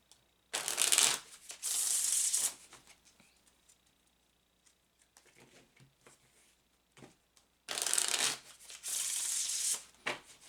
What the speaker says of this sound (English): I'm going to go ahead and shuffle